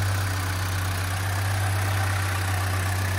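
A 1963 Mercedes 220 SE Coupé's fuel-injected six-cylinder engine idling steadily nearby, a smooth continuous low hum with faint mechanical ticking and no voices.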